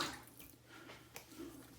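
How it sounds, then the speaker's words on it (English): Faint water splashing and dripping as a face is rinsed at a sink after a shave with a 5-blade razor and sensitive-skin shaving cream, soft and close in a quiet room. "Let me rinse my face"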